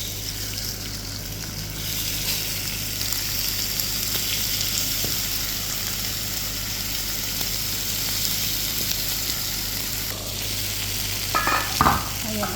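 Chicken frying in hot oil until golden brown for a melon chicken salad, a loud steady sizzle and crackle close up, with a brief clatter near the end and no speech.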